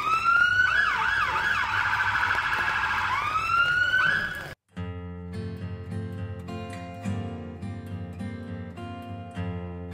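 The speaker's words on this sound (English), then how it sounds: "I can hear sirens." Loud wailing sirens rise and fall for several seconds at Christmastime, then cut out abruptly, replaced by steady tonal music-like sound.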